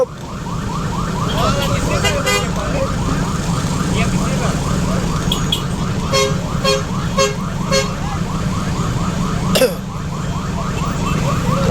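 Siren wailing in rhythmic, repeating sweeps over dense Cebu street traffic, an ambulance pushing through congested roads; steady engine rumble and horn toots underneath, with voices talking nearby.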